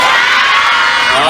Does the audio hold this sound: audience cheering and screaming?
yes